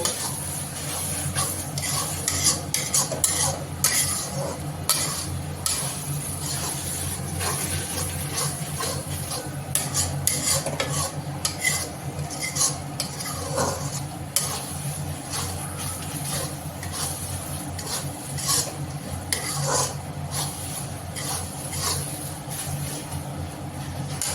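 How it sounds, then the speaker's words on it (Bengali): Spices with a splash of water sauté in a pan, a continuous close sizzle broken by repeated scraping strokes of a spoon stirring against the metal; no one speaks. "জল দিয়ে ভালো মতো মশলাটাকে আমি কষিয়ে নেব।"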